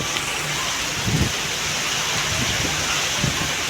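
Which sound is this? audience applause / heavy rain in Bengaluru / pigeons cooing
heavy rain in Bengaluru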